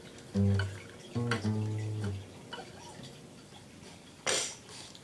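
Guitar picking out a riff, a few low, separated note groups played at moderate volume with pauses between them, followed by a short noisy scrape.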